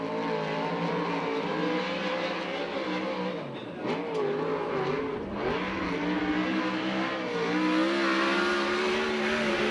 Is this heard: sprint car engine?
yes